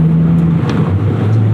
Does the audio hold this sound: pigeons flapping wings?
no